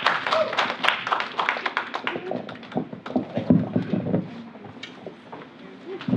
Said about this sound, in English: let's give another round of applause for Brent